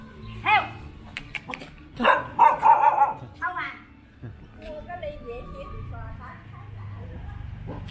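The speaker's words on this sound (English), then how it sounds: "My dog doesn't like tourists." A dog gives a few sharp barks followed by a quick run of yapping on a small street in Danang, Vietnam, with people talking and faint street noise in the background.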